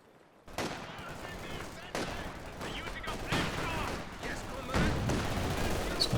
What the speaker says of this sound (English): Sniper and mini AT guns opening up on these grenadiers.